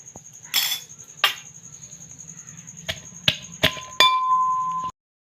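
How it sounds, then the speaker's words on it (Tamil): Cut large onions being pounded for crab soup: a handful of sharp, hard knocks and clinks at irregular intervals, close by, over a faint steady chirping hum in the background. "இப்போ நாங்கள் வெங்காயத்தையும் இடித்து எடுக்க போகிறோம்."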